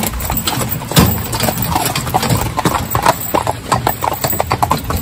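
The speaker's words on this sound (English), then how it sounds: "So see my horse now, he just walked like that." A big horse walks in harness alongside a little pony, hooves clip-clopping in a steady close rhythm, with an engine idling faintly in the background.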